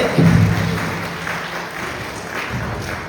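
Audience applause at the Mopin Festival stage in Khonsa, a steady crowd clapping that swells briefly at the start then holds at a fairly loud, even wash before easing slightly.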